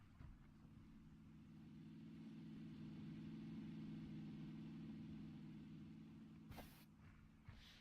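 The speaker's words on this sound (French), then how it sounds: "Voiture." A car engine hums in the PUBG video game, a faint steady mid-pitched drone that swells slightly and then fades, with a couple of brief clicks near the end.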